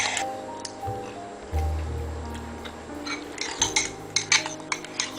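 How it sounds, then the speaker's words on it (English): Hot sauce yogurt dip being mixed in a bowl with a utensil, soft squishy stirring and a few light clinks against the bowl, brief and close, building to sharper taps toward the end. "Mix that in there."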